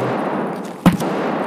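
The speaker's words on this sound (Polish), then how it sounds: "Strzela do mnie, stary" One sharp gunshot in the shooter game Escape from Tarkov, a single brief crack over steady background ambience, with no talk.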